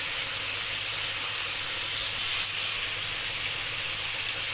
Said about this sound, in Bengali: দেখো চিংড়ি মাছগুলো এখানে ভাজা হচ্ছে